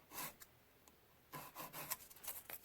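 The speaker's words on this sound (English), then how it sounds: "I also like to make sure that I file underneath the nail." A nail file rasps across a poly gel nail extension in short, quiet strokes, a brief burst, a pause, then a quicker run of close, soft scratches.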